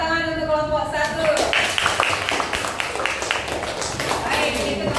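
Classroom applause for a student group after a presentation, a burst of many hands clapping close by for several seconds, following a brief trailing voice at the start.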